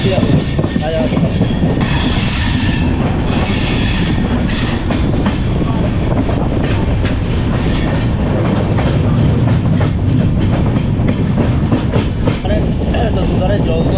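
A train runs along a line through forest near Rajabhatkhawa in the Buxa-Jayanti area of Alipurduar, its loud, close, continuous rumble and rhythmic clickety-clack of wheels filling the whole stretch.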